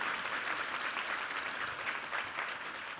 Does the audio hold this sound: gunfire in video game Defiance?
no